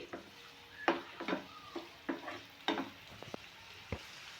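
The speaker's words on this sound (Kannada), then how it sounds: "2 ಮೀಡಿಯಮ್ ಸೈಜ್ ಟೊಮೆಟೊ ಸಣ್ಣದಾಗಿ ಹೆಚ್ಚಿಟ್ಕೊಂಡಿನಿ, ಅದನ್ನು ಹಾಕಕತ್ತೀನಿ. ಈಗ ಸ್ವಲ್ಪ ಫ್ಲೇಮ್ ಹೈ ಮಾಡ್ತೀನಿ." Finely chopped medium tomatoes dropped into a pan over a high flame for masala pav, a soft low sizzle broken by scattered spoon scrapes and taps against the pan, quiet and close with no talking.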